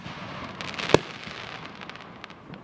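A grand finale of July 4th fireworks at Alton Baker Park in Eugene, Oregon, heard from a distance with scattered crackles and one sharp, loud bang near the middle.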